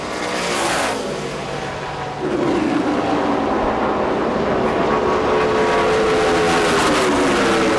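ARCA Re/Max Series race car at speed on a track, engine note roaring steadily and loudly throughout, shifting briefly in pitch as it powers through the center of a corner.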